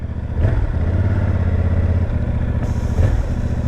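A 2021 Yamaha MT-07 motorcycle engine runs loud and close, a steady deep rumble with a brief rise in revs near the start and another blip toward the end, no talking.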